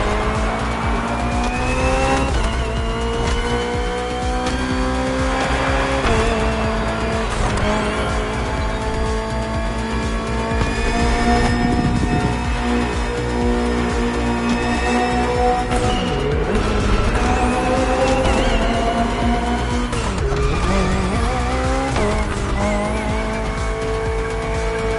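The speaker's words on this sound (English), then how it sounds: "BMW M Hybrid V8. What a beast." BMW M Hybrid V8, a 2023 endurance race car, driving in a video game: loud continuous engine drone with shifting pitch and repeated tire squeals and skids, no talk.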